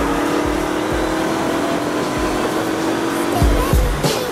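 A McLaren P1 engine with stock exhaust drones steadily and loudly at close range, with a couple of brief throttle blips near the end.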